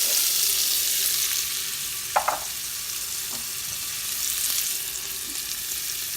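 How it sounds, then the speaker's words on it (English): Chopped shallots fry in browned butter and oil for a lobster bisque, a continuous close sizzle with a couple of sharp utensil clicks and taps partway through. "browning some butter and some oil, and I'm going to throw the vegetables in here. So let's start with our chopped shallots."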